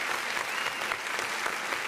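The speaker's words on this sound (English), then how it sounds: "we need to give her a round of applause" A short burst of dense, steady clapping from a studio audience during a morning talk show, loud and even throughout.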